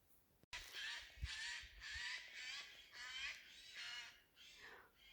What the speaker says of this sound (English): it sounds like monkeys, but these are jays. Noisy birds.